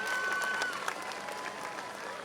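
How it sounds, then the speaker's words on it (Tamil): An audience at a school annual day event applauds, a faint, even patter of clapping with a brief whistle near the start. "அதனால் விசில் சத்தத்தோடு நல்லா கைத்தட்டுங்க."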